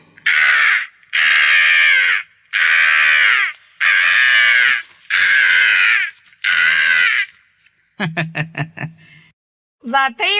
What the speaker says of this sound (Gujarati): ધીરે રહી એ ગાવા માટે કાગડાભાઈએ તો મોં ખોલ્યું